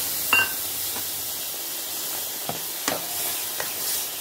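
Milk poured into a pan of curry frying in oil sizzles with a steady hiss, broken by a few soft clinks and stirring taps.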